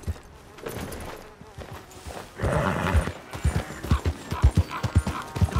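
A big, mean horse in Red Dead Redemption 2 clip-clops along with a brief whinny, hooves striking in a steady walking rhythm that grows clearer and closer toward the end.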